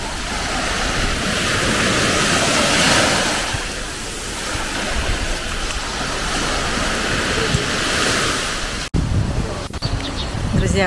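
Sea surf rolls onto a gently sloping sandy beach in a steady broadband wash of breaking waves, loud and close, with wind buffeting the microphone and a sudden cut near the end.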